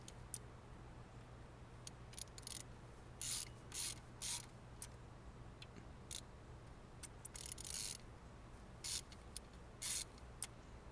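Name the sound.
ratchet breaking loose roller rocker bolts on VW Jetta TDI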